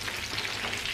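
Hilsa fish fry in hot oil with a dense, continuous crackling sizzle, loud and close, with no pauses over the short span.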